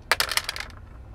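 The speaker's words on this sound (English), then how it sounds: "just roll the dice." Dice roll for a drawing game, making a quick burst of bright clattering clicks that tumble and fade within about a second, close and alone.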